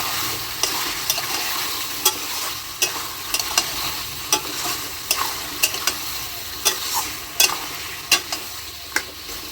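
Chicken pieces being stirred and fried in a pan with chilli powder, a steady sizzle punctuated by many sharp, irregular clicks and scrapes of the spatula against the pan, close and without talk.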